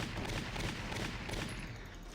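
Rapid gunfire from the war strategy game Valkyria Chronicles, a dense unbroken burst of shots that fills the whole stretch at close, loud level with no talking.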